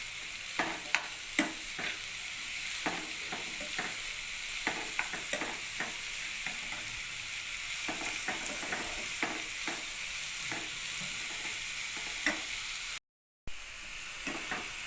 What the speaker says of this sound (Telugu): ఈ ఆనియన్స్ అనేవి గోల్డెన్ బ్రౌన్ కలర్ వచ్చేంత వరకు ఫ్రై చేసుకుందామండి.